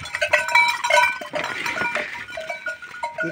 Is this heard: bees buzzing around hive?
no